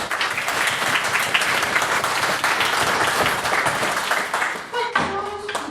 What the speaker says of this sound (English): we get a wee round of applause for Matthew